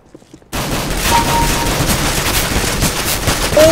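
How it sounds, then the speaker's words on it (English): Pistol shots in Counter-Strike: Global Offensive burst in after a brief quiet moment, followed by dense, loud, continuous gunfire that fills the rest of the clip without talk. "I killed him with a pistol!"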